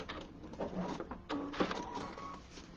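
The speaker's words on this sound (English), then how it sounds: "I stitched in the ditch, tie off on the end, and I'm going to stitch on the other end as well." A sewing machine stitches in the ditch on a quilt, a faint mechanical whirring with short irregular runs and pauses, heard up close at low volume.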